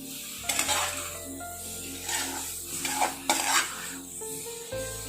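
Chicken cooking in a pan is stirred with a utensil, with soft sizzling and several scraping, clinking strokes against the pan over quiet background music.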